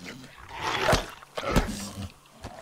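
A hostile dog attacks the player in the Metro Exodus video game, with snarling, growling bursts peaking twice close up amid a busy game soundtrack, while someone speaks briefly.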